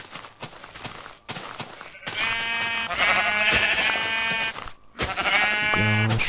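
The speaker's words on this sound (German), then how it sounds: "ja, schön braves Schaf" Sheep bleating in the video game Minecraft, several loud, close bleats with harmonic tones that repeat across the clip and are broken by short gaps, plus some clip-clop-like game noises.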